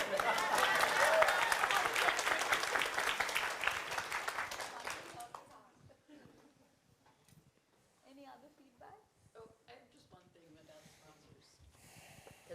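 Steady applause from an audience fills the first five seconds, then fades out, leaving quiet room noise with faint scattered movements.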